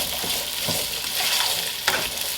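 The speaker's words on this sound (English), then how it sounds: "I'm just going to let them do their thing and start frying up" Potatoes frying in hot oil on medium-high heat, a steady close sizzle with occasional stirring clatter and a brief sharp scrape near the end.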